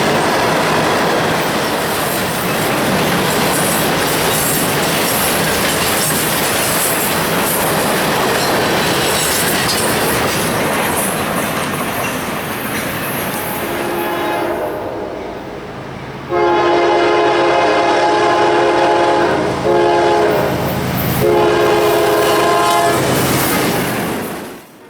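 A CSX freight train passing in central Florida roars and clatters loudly over the rails, then its horn sounds in long, sustained blasts near the end before the sound cuts off.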